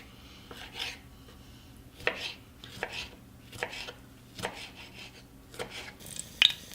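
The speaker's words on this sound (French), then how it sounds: "Je vais couper aussi les tomates." Tomatoes being cut with a knife for Moroccan harira, a series of light, irregular chops against a board heard up close, with no voices.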